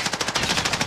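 Rapid automatic gunfire in a battle royale video game, a loud, fast burst of about a dozen evenly spaced shots in under a second.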